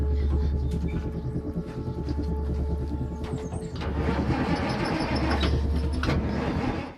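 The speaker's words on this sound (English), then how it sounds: "But the truck wouldn't start," Truck engine cranking over and over without catching, a loud throbbing starter churn that rises and sags, then stops abruptly at the end.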